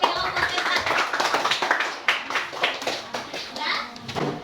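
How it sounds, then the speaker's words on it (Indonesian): Children in a classroom clap for the first group after its presentation, a lively, uneven patter of small hands with excited kid voices chattering underneath throughout. "Marilah kita berikan tepuk tangan untuk kelompok 1"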